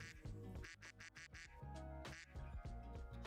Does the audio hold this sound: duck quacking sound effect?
yes